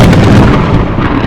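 A loud, close crash of thunder with lightning, a dense rumbling roar that fills the moment and trails off slightly toward the end.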